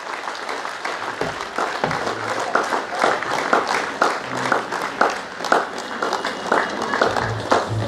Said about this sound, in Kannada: ನಮ್ಮ ಚಪ್ಪಾಳೆಗಳನ್ನು ಮೀಸಲಾಗುತ್ತೆ